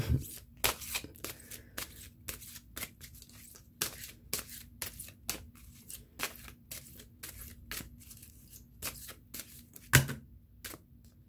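Tarot cards being shuffled by hand, with some cards falling out: close, repeated papery riffles and slaps in an uneven rhythm over a quiet room hum, with one sharper snap near the end.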